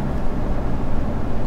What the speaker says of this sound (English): Road noise test, we're going to sit on about between 80 and 90.